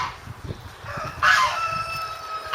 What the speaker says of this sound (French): Voilà notre joli petit coq avec leur petit poulailler.